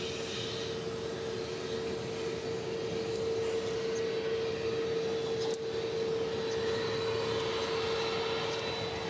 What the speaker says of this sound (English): What you hear in the background is the 767 that landed, pulling into the UPS facility adjacent to us